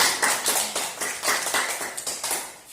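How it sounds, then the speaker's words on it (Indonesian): A classroom of students claps together in a short, rhythmic burst of hand claps, fairly close and moderately loud. "Betul, tepuk tangan."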